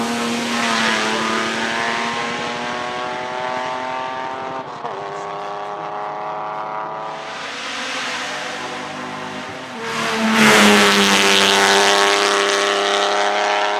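A 1959 Jaguar MK1 race car climbs a hill on a motorsport course, its engine droning steadily with gear changes and a sharp rise in revs near the end, loud and close with no talk over it.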